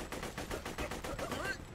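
Rifle gunfire in the video game Borderlands 2: a rapid burst of about ten evenly spaced shots, loud and close, firing steadily for under two seconds.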